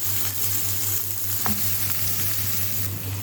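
Onions and peppers frying in oil for a moussaka, a steady close sizzle with a faint low hum beneath and one light stirring scrape midway.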